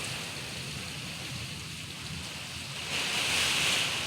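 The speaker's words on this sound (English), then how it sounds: "That's rain." Heavy rain pours steadily during a Florida thunderstorm, a dense continuous wash of water that swells louder near the end, with no voices.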